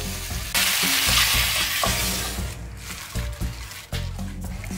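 Chopped chives stir-fry in a hot pan as filling for rice paper dumplings. A loud, close sizzle surges as they hit the oil, then settles under repeated scraping stir strokes.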